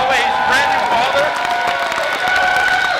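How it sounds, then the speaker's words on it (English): Loud audience applause mixed with cheering and whoops at a corporate event, a dense crowd roar close up with shouted voices over the clapping throughout. "Let's give David Oliveira a round of applause."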